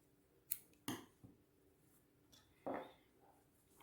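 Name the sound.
scissors cutting crochet yarn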